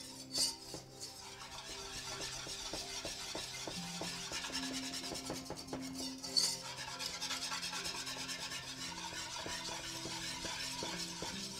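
A whisk stirring roux for gumbo in a pot, steady scraping and rubbing strokes with a light metallic rasp, close and continuous, with music playing underneath and no talking.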